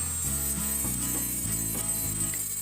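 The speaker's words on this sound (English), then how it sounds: "I'm going to grind them off with my rotary tool" A rotary tool grinds detail off a metal casting on a Great Western Smokey Joe model locomotive, a loud continuous whine that steps up and down in pitch as the tool presses and eases off the metal.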